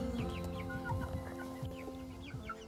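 Blue Andalusian chickens on a homestead cluck softly in short, scattered calls, with a few higher chirps mixed in, moderately close against a steady background hum.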